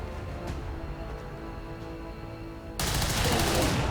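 Gunfire in the video game XCOM 2 bursts in loudly near the end after a low, steady ambient hum, a sudden dense shot that fills the space.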